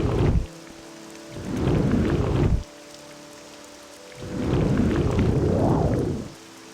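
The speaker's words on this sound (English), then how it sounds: "God damn it, it's raining." Rain pours steadily in Morrowind while long rolling thunder swells in two loud, heavy waves, each lasting about two seconds, over a constant hiss of falling water.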